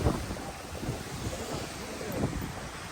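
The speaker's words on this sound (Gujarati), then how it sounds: "શું વાયરો છે ભાઈ?" A powerful cyclone wind roars across open ground where Kankrej cows are kept. The gusts buffet the microphone in a continuous loud rumble and whoosh.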